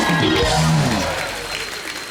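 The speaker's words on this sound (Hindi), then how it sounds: "उषा दीदी के लिए जोरदार तालियां।" A studio audience at a television comedy show bursts into applause, a loud wash of clapping that fades somewhat over two seconds, with a voice briefly audible at the start.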